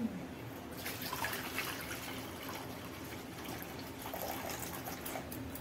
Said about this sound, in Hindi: हरा जो कढ़ाई में पानी डाल रहे हैं।